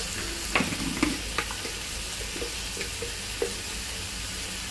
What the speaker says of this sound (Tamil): தக்காளி நல்லா வதக்கிக்கோங்க